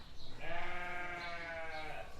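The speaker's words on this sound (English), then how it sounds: "Who owns this superb flock of sheep?" A flock of sheep bleats in a long, wavering chorus, several voices overlapping and fairly close, with no talking.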